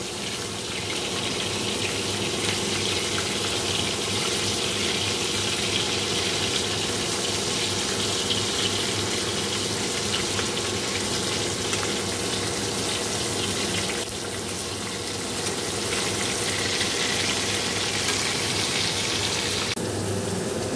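Sole fish frying in a pan in a home kitchen, a steady broadband hiss and crackle of hot oil running continuously and fairly loud, with no voices.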